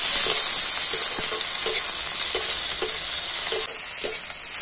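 Onion and green chillies frying in a pan, with a loud, continuous sizzle and a regular series of soft spatula stirs and scrapes across it.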